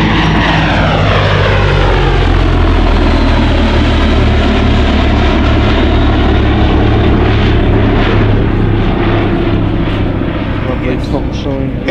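Vintage propeller aircraft at the Shuttleworth air show, a loud close engine drone sweeping past with a falling pitch as it flies by, a steady roar throughout.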